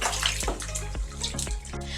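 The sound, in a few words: stirring cloth diapers soaking in water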